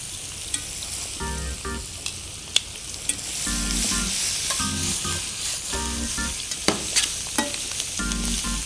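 Garlic sizzling hard in a hot pan with parsley, salt and pepper, a dense steady hiss with the scrape and clatter of stirring breaking through in bursts.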